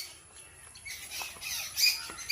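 Harsh bird squawks, faint at first, then louder and rising toward the end, over a quiet outdoor background.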